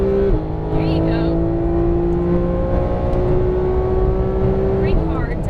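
Porsche 911 GT3 of the 991 generation at full throttle on a race track, its engine pitch climbing steadily with a gear change near the start and another near the end, loud and close under an instructor's voice.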